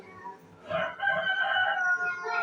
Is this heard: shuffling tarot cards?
no